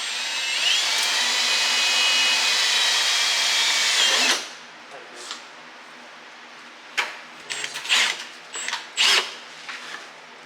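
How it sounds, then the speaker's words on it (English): Power tool whirring steadily for about four seconds while installing a rivet nut on a car's side skirt, then stopping, followed by a few short clanks and handling knocks close by. "Wife's first time installing a riv nut."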